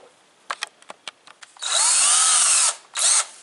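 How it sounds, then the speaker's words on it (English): A regular power drill with a 7/32 drill bit boring a hole for a 1/4 inch tap, several short trigger blips first, then a loud sustained whine that drops and starts again briefly, close up with no talk. "you take a 7/32 drill bit, put it in a regular drill"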